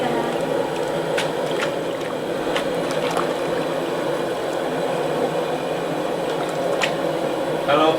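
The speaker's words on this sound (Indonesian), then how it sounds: "Bilas kulit kentangnya, Pak." Potato peels being rinsed in a tub of water for making chips, a steady wet sloshing and squishing with small splashes and drips throughout, close by.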